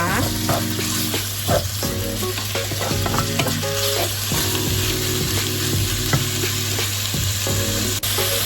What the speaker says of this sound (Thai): ผัดหมูให้สุกในระดับหนึ่งนะคะเพื่อนๆขา